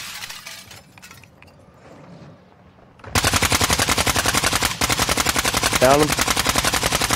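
Rapid automatic gunfire in Call of Duty DMZ, loud, dense and continuous after a quieter opening stretch, with players talking briefly over the firefight.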